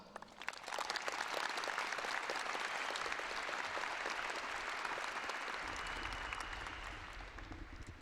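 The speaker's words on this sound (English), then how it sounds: "So I think they are all more than deserving of a round of applause" A graduation audience applauds school families and staff, a broad, steady roll of many hands clapping that sounds fairly distant in a large hall and fades gently toward the end.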